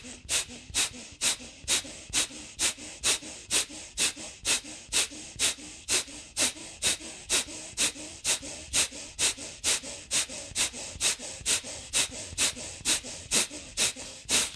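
A person practises the breath of fire exercise, pushing out sharp, rapid breaths through the nose at an even pace of about two per second, close and alone for the whole stretch.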